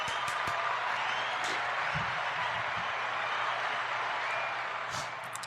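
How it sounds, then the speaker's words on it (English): A sustained round of applause from a crowd, dense clapping that stays steady for several seconds before easing off slightly at the end. "We're gonna give you guys a round of applause."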